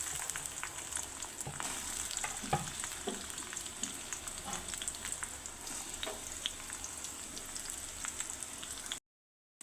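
Green chillies and onions sizzle in hot oil while being stirred, a steady crackling hiss with scattered scraping stirs, close and continuous until it cuts off abruptly.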